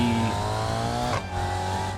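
Race car with downforce driving in a video game, a steady, loud engine drone with clear harmonic whine, briefly dipping as the revs shift before settling back into a sustained tone.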